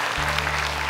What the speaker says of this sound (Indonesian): Tepuk tangan dong untuk dua Ahmad